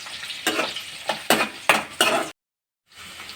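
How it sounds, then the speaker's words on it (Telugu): Onions frying in a pan for tomato rice, with a bright sizzle broken by several stirring scrapes and clinks of a spoon against the pan, then a short pause before the frying sound resumes. "ఓకే ఫ్రెండ్స్, ఆనియన్స్ అయితే వేగినాయి."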